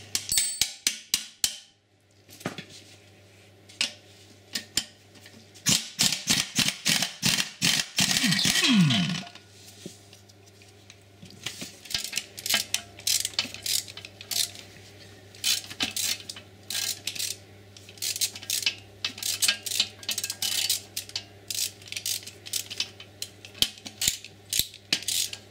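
A ratchet works the size 10 nuts off the exhaust manifold of an Audi RS6 C5. Bursts of fast metallic clicks and small clinks sound close up, broken by short pauses, with a steady low hum beneath them.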